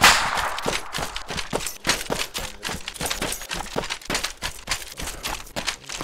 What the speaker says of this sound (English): Oh, enemy fire!